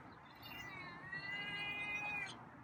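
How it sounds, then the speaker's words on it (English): A feral cat lets out one long, drawn-out meow that wavers in pitch, close and fairly quiet, with no talking. "that's a interesting meow"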